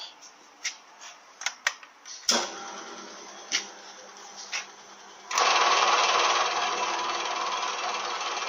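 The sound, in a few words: torque converter spinning on a lathe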